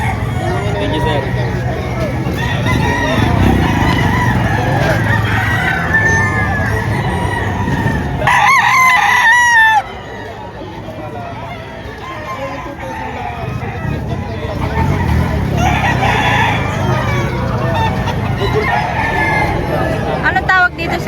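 Roosters crow repeatedly among clucking chickens at a busy poultry market in Padre Garcia, Batangas, with constant crowd babble and people talking throughout.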